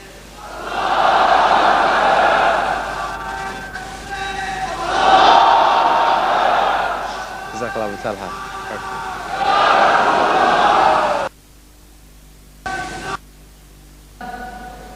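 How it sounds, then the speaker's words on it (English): Crowd at a 1994 Khilafah conference chanting takbir in place of clapping, three loud swelling waves of many voices shouting in unison, each lasting a couple of seconds, with brief quieter gaps and near silence after. "let's show our appreciation, inshallah, for the rest of the today with a takbir rather than clapping"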